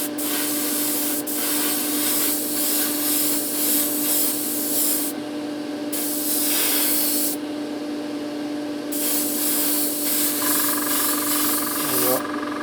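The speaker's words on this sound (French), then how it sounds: "Je me sers tout le temps des vieux aérographes pour tout ça à 20-30 euros et il y en a largement assez pour mettre le primer." An old airbrush sprays primer onto a Renault 5 Alpine scale model, giving a steady hiss in several bursts broken by short pauses, close and fairly quiet.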